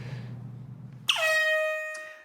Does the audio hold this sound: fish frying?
no